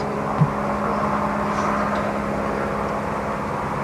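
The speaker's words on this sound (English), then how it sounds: "It's very good to have this aeroplane going over us." An aeroplane passes overhead as a steady distant drone and whir, a continuous low hum holding level throughout, with no talk.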